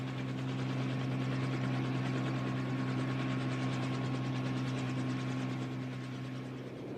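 Military helicopter flying, a steady loud rotor drone with a strong low hum and rapid chopping pulse, continuous and close throughout with no talk.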